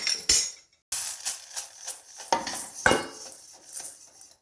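Roasted ingredients for usili upma tipped out of a pan, with a few clanking metal scrapes and clinks of a utensil against cookware, separated by brief pauses, close and fairly quiet.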